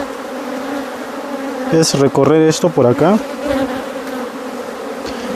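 A swarm of honeybees buzzes as a steady, close drone through the whole stretch, with someone speaking over it in the middle.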